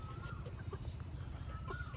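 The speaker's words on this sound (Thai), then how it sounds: "ไก่มินิโคชินขนม้วนครับ" Mini Cochin frizzle chickens cluck softly nearby, a few short scattered calls over a low background hum, faint and close.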